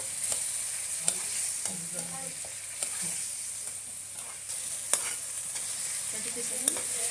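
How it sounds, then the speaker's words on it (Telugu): Egg gravy frying in a pan before prawns go in, a soft, steady sizzle with irregular stirring scrapes and a couple of sharp spoon clicks against the pan, no talk. "ఇది బాగా ఫ్రై అయిన వరకు ఏపుగా వెయిట్ చేయండి. వేగిన వరకు ఇలా కలిపి దగ్గరికి అవ్వాలి."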